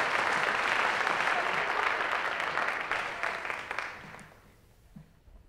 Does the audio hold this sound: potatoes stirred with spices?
no